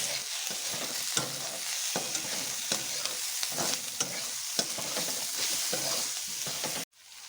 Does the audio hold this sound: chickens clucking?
no